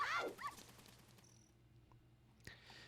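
A dog in a Zelda Ocarina of Time randomizer game gives short, high whimpering yips at the start, fairly faint over a low game hum, followed by a quiet stretch and a single soft tap.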